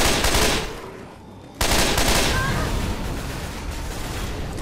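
Sustained automatic gunfire from the Left 4 Dead 2 video game, a dense broadband rattle that fills the clip, briefly dips quieter mid-way, then resumes loudly and continuously with faint background voices.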